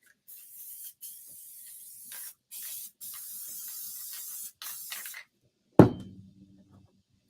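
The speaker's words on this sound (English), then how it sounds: "So I'm just going to spray over in this box" Aerosol spray paint hissing in several bursts of one to two seconds each over craft pieces set in a box, followed by a single loud knock as the can is set down, with a faint ringing tail.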